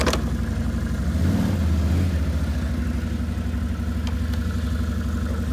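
A plow vehicle's engine runs rough at idle after a cold start, a loud, low, uneven rumble. It swells briefly near the start, then settles into a steady drone, with no voices.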